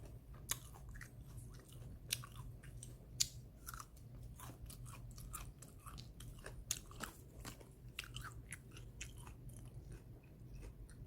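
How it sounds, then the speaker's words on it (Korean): Someone chewing raw ginseng root, giving quiet, crisp crunching bites in an irregular rhythm over a faint low hum. "그래서 심심하면 이거 씹어 먹습니다"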